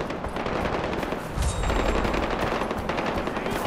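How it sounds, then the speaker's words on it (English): Dense, continuous gunfire from a distant skirmish in the video game Far Cry 4: rapid machine-gun bursts and overlapping shots rattling on steadily throughout, with a heavier boom midway and no talking. "Where's all this like crazy shooting coming from?"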